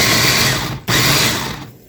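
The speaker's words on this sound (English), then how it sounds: "Pulse that up. You want to pulse it up so it's nice and fine." Food processor pulsing Oreo cookies into fine crumbs, a loud whirring grind with a brief cut in the middle before the motor surges again and then winds down, no speech.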